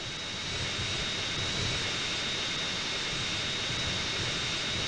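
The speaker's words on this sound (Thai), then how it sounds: "เอาเครื่องบินไปเก็บในโรงเครื่องบินเหรอ" A fighter jet engine in GTA San Andreas Mobile roars steadily and loudly for the whole stretch, a dense unbroken wash of engine noise with no voices.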